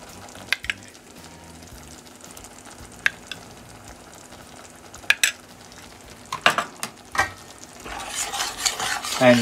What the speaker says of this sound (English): And you just stir it.